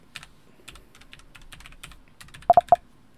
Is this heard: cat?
no